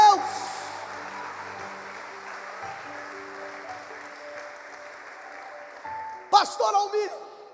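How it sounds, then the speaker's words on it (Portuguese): A church congregation claps and cheers in praise during a sermon, sustained applause with organ or keyboard tones underneath, fading to a lower wash before a sharp burst of louder claps and voices near the end. "Aplauda e glorifique a Deus."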